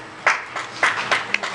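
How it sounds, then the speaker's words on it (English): Scattered handclaps from an audience at a county council meeting, a few brief bursts of clapping in a quiet room. "Please, we're not going to have clapping."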